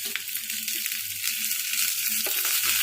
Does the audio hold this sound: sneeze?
no